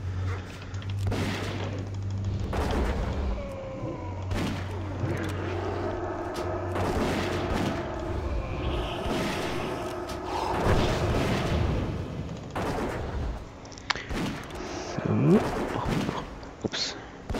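Shooting attacks in World of Warcraft make a run of sharp gunfire-like cracks and booms at irregular intervals, mixed with other game effects and some voices.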